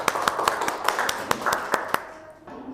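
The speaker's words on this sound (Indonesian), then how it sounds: "Beri tepuk tangan kepada kelompok 3" Sharp hand claps ring out at a steady, fairly quick pace for about two seconds, then stop, leaving a quiet room.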